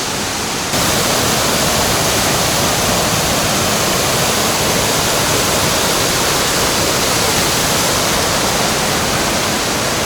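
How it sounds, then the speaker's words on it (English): Dense, constant roar of a rain-swollen forest creek rushing nearby, a loud broadband wash of water that starts abruptly and holds steady with no voices. "So I think this is normally like a little creek."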